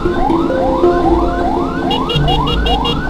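An ambulance siren on the road wails in repeated rising sweeps, loud and close, with a sharper high warbling tone joining in partway through.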